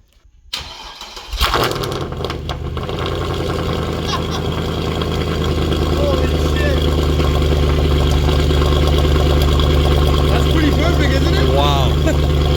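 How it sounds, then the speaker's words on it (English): A Mercedes C63 AMG fitted with new Alibaba headers cold-starts with a sharp crank and bark, then settles into a loud, deep, rumbling idle that stays close and steady throughout. "You guys ready to hear the craziest sounding C63 you've ever heard?"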